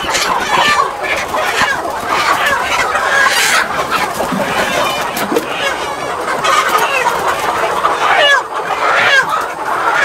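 Free-range hens and roosters on a Vietnamese farm cluck and squawk continuously and loudly up close as they are caught, with agitated flapping bursts and possible voices mixed in.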